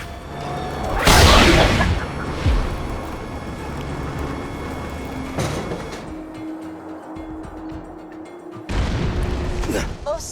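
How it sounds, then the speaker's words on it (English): Several heavy booming cannon shots in the video game Borderlands 2 ring out at intervals, each a loud burst, over a low mechanical hum and background ambience. "Please fire the cannon again."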